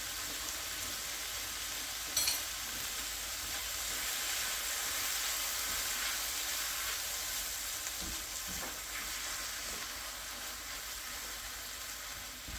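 Roughly 75 grams of butter melts in a pan for a roux, giving a steady soft sizzle and hiss close by with a faint clink or two and no talking.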